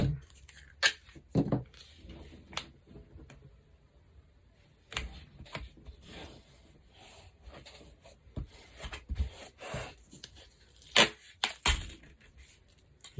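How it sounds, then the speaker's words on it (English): Scissors snip through Gorilla Tape in a quiet room, a scattered series of short sharp cuts and crinkly tearing with faint rustling between them. "I'm about to need more of this Gorilla Tape. And so I can cut about right"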